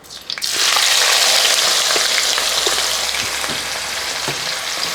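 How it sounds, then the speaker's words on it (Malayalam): Thinly sliced small onions drop into hot oil in a pan and burst into a loud, dense sizzle that settles into steady frying with faint stirring clicks. "രണ്ട് ചെറിയ സവാള അരിഞ്ഞ് വെച്ചിരിക്കുന്നത് കനം കുറഞ്ഞ് ആ സവാള അങ്ങോട്ട് ഈ എണ്ണയ്ക്കകത്തോട്ട് ഇട്ട് കൊടുക്കുക"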